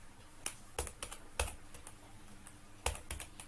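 Sparse keystrokes on a computer keyboard, a few scattered clicks and short bursts with pauses between, close and fairly quiet over a low room hum.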